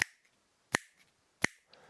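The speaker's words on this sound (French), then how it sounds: "le petit claquement de doigts comme ça" Three crisp finger snaps ring out alone in a quiet room, evenly spaced about three-quarters of a second apart, each sharp and close with a quick decay.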